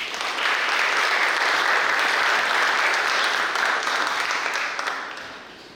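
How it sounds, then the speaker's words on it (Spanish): An audience at a panel debate on digital education applauds, dense sustained clapping that fills the room and gradually fades toward the end. "Un aplauso para"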